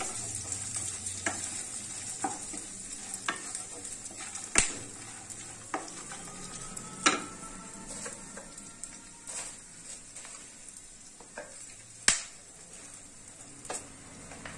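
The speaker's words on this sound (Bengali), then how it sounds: "আমি এখানে 1 মুঠো ওটসও দিয়ে দিলাম। এটাকে দিয়েও একটু নাড়বো।" A handful of oats being stirred in a pan for sugar-free protein laddoos, a soft steady scraping with quiet sizzling, broken by a few sharper knocks of the spoon against the pan.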